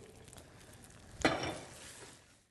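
Eggs cooking in a hot pan, a soft sizzle with a brief sharp clatter from the pan partway through, then fading hiss.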